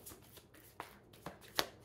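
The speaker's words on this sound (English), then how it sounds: "Just one more shuffle here." Tarot cards being shuffled in a few quick, crisp riffling bursts, close up, with quiet pauses between them.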